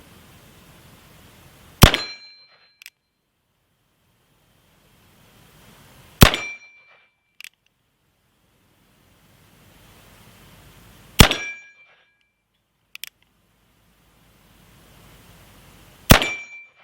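A steel plate target rings after shots from a Cimarron Bisley revolver in .44-40, fired one-handed at 25 yards outdoors. Four distant reports each bring a bright clang that rings on and fades, and a few smaller dings follow.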